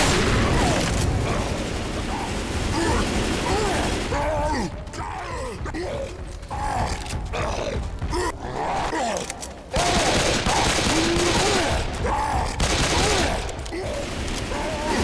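Gunfire against the Tank in the co-op zombie shooter Left 4 Dead 2 on the Death Toll church map, dense continuous rattling shots with booms and mechanical clatter, loud and sustained with a short drop in intensity partway through.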